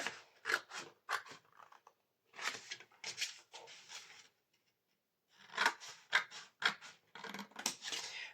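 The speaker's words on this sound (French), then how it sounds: "il y a 4 coups de ciseaux à donner pour détacher à chaque fois les carrés des grands côtés de la boîte" Scissors snip through a paper scrapbooking box, cutting off the corner squares from its long sides. Short crisp cuts come in quick clusters of three or four, separated by quiet pauses. The snips are close and fairly soft, with no voices.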